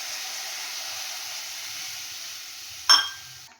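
Fish curry broth bubbling after water is poured into frying masala in a pan: a steady, soft hiss and sizzle, with one sharp spitting burst near the end.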